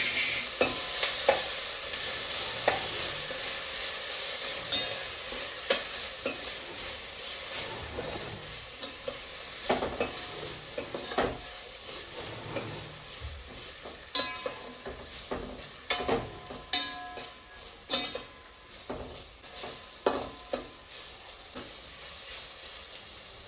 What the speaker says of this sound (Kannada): ಈರುಳ್ಳಿ ಮತ್ತು ಟೊಮೆಟೊ ಒಂದು ಸ್ವಲ್ಪ ಫ್ರೈ ಆಗಿದೆ